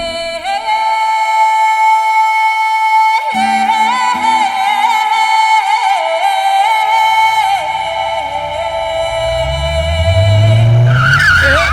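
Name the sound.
car engine revving with the handbrake still on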